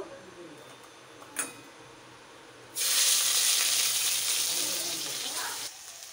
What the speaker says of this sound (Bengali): কড়াটা বসিয়ে দিয়েছি, এবার তেলটা দিয়ে দেবো। পেঁয়াজটা দিয়ে দেবো